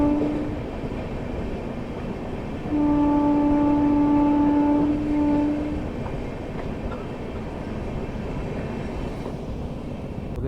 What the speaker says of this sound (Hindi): और ये सामने मेमू आ गई है कुरुक्षेत्र वाली।